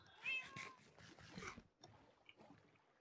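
A cat meowing in the Minecraft video game, several clear meows and a drawn-out yowl in quick succession, fairly close and alone without talk.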